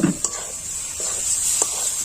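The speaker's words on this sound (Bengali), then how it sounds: "দিয়ে কন্টিনিউ নাড়তে হবে" Gram flour being stirred into sugar syrup in a wok, a few soft scraping strokes with a faint sizzle underneath, close and fairly quiet.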